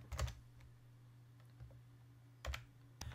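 A computer keyboard being typed on, naming a file in a save dialog in Pro Tools: a few sparse, soft key clicks with gaps between them over a quiet low hum, no voices.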